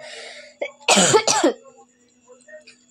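A person with a cold coughs a few times in quick succession, harsh and close, after a short throat noise, with a faint steady hum behind.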